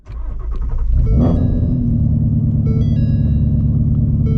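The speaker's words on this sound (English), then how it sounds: "let's go ahead and fire up the car" A car with a manual transmission and low tire pressure fires up, starter cranking briefly before the engine catches with a rise in revs and settles into a loud, steady close-up idle rumble.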